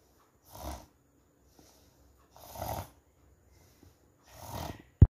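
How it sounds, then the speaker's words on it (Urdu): A sleeping person snores three times, each a deep rasping breath spaced about two seconds apart, close and fairly loud against near silence. "خراٹوں کی آواز ایک ناخوشگوار آواز ہے جو بعض لوگ سوتے وقت لیتے ہیں"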